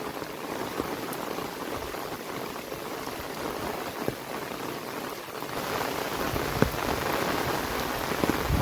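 Heavy rain pours steadily, a dense hiss of drops hitting surfaces close by, with occasional louder splashes and no talking.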